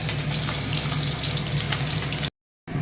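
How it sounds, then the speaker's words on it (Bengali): Pieces of rohu fish frying in hot oil in a home kitchen, a loud, dense, continuous sizzle heard close up before an abrupt cut to silence near the end. "মাছ ভাজা হচ্ছে"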